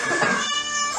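Cats meowing a rendition of the Christmas song Silent Night, a loud, close, tonal meow sliding in pitch, then a short gap and a second sustained meow.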